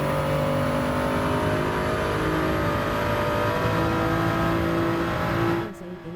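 Toyota Supra race car in Gran Turismo 7 holds a steady, loud engine drone at high revs for several seconds, with a harmonic whine, then cuts off abruptly near the end.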